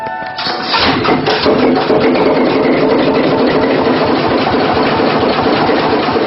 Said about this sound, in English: able to raise the ship's massive anchor and get the engine started